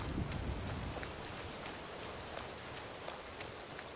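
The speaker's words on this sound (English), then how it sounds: "Love the rain." Steady rain falls in the fantasy game Skyrim, a constant close hiss of drops spread evenly through the whole stretch, slightly heavier at the very start, with no voices.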